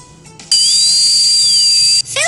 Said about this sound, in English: Remove cavities with a dentist's drill.